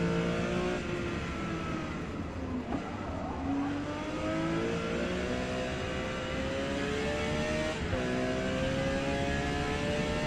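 A Porsche 718 engine revs in the Forza Motorsport racing game, a loud, steady harmonic drone whose pitch climbs and dips through gear changes, with a brief drop near the middle and another shift toward the end.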